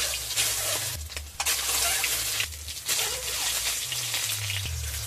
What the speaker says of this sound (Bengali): এবার আমি ডিমটাকে ভেজে নেব তেল দিয়ে